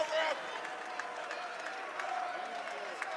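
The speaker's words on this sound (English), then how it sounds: "Crowd giving the ref some grief for that a bit, or approval." A wrestling crowd at an indoor event reacts to the referee with a steady, distant wash of murmuring, scattered claps and shouts, a bit louder at the very start.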